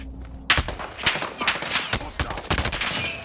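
Rapid bursts of close, loud gunfire in a Call of Duty Battle Royale match, sharp repeated shots and automatic volleys cracking in quick clusters with a muffled voice briefly underneath.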